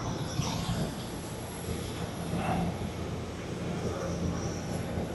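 Jet airliners at Honolulu International Airport, including a Japan Airlines flight, give a steady, broad engine roar heard from a distance, with faint outdoor ambience and no talk.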